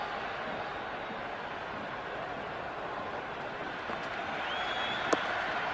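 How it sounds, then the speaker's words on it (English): Steady applause and crowd murmur fill a cricket stadium in the Cricket 26 game during a Sri Lanka versus Pakistan T20I, with a faint sharp knock near the end over the continuous wash. "The crowd is electric right now."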